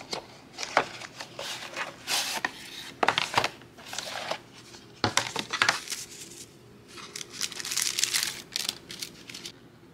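Soft pastel rubbed and dabbed onto a crochet bunny plushie to add blush gives close, dry scratchy brushing strokes in short irregular bursts, fairly quiet with some faint crinkly handling between strokes.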